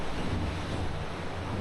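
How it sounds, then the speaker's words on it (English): Southern Ocean waves crash and rush beneath a thin carbon fibre racing yacht hull, making a continuous loud roar of water and wind with a deep low rumble. "So you can hear those waves crashing underneath us."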